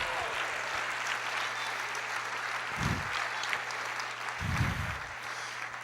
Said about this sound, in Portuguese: Amém ou não? Aplauda o Senhor.